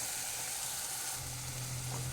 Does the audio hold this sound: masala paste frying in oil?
yes